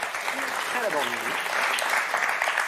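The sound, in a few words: studio audience applause for game show contestants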